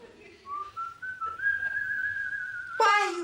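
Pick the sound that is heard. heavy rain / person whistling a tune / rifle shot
person whistling a tune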